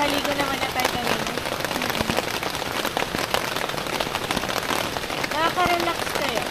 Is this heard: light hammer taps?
no